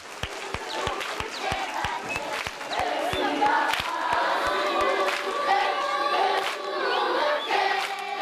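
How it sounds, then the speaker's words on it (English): Audience giving a round of applause for visiting children and adults from a community school, scattered claps at first building into fuller clapping and crowd noise, with children's voices and cheers mixed in. "a round of applause for the children and adults from Birchfield Community School"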